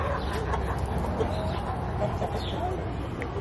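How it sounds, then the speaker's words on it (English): Rooster clucking at a farm-animal stop during summer travel in Broken Bow, Oklahoma, soft and partly buried in steady outdoor background noise, with people talking nearby. "A rooster flexing."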